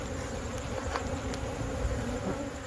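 Honeybees buzzing steadily around an opened weak beehive during a brood frame inspection, a close, continuous swarm drone filling the whole stretch with no talk.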